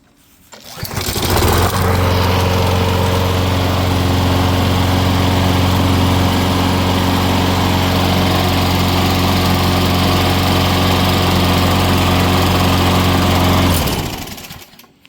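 A lawn mower engine, newly fixed after its unplugged spark plug was reconnected, catches and runs loud and steady close by for about twelve seconds with a constant droning pitch, then cuts off.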